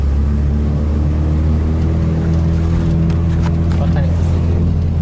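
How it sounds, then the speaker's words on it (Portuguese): A Volkswagen Polo engine revs hard in a short burst, with a loud low rumble and shifting tones, and voices come in partway through. "Só uma aceleradinha,"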